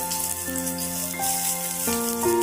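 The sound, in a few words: ginger and garlic frying and being stirred in a pan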